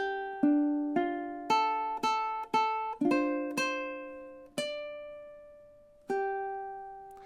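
Solo ukulele picking a slow fingerstyle passage, bright single notes and small chords plucked one at a time, each ringing out and fading before the next, ending on a long-sustained note.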